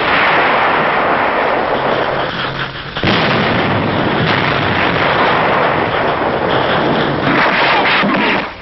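Heavy WWII artillery fire in a newsreel battle near Naha, Okinawa, as a loud, continuous roar of blasts and rumbling booms with a sharp new burst about three seconds in, no voices over it.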